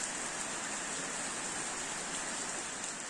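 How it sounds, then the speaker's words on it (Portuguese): Steady heavy rain falls on a farm property, a dense, even hiss of drops with no pauses, close and moderately loud throughout, with no voices. "Seu Ernesto, então, mandou um vídeo para nós da chuva lá na propriedade dele."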